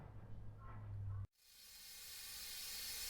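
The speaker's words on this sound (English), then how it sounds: "You can see it is steaming up nicely." Steam locomotive releasing steam in Train Simulator on the Feather River route, a soft hiss that cuts off abruptly, then a louder broadband steam hiss building steadily after a brief silence.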